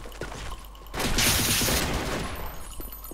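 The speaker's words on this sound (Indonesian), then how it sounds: "Bunyi tembakan tu lebih banyak." Video game gunfire with Malay-speaking players: a dense burst of rapid shots and booms swells loudly for about a second, then trails off into lighter background clatter, with no talk.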